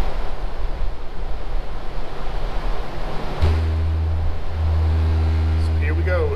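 A subwoofer filled with water switches partway through from low rumble to a steady 80 Hz tone, loud and sustained with a brief dip near the middle.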